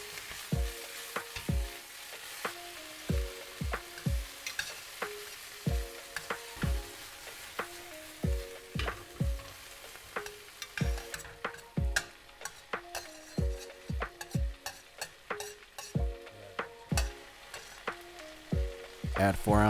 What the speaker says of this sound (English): Dump your ranchero sauce veggies in the pan and cook until fragrant.